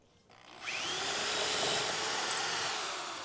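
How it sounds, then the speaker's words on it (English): A power drill spins up and grinds steadily into wood while building a compost bin, loud and close, holding a continuous whirring bore for a few seconds. "if you keep the drill moving while you pull it out"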